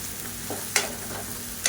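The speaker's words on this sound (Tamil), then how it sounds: "இப்போ பாருங்கள் வெங்காயம் நல்லா வதங்கிடுச்சு" Onions and garlic frying in a pan for a village-style paruppu urundai kuzhambu give a steady sizzle, with a few sharp crackling pops as they are stirred.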